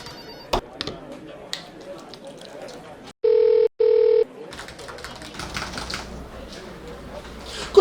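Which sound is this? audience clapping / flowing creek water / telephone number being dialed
telephone number being dialed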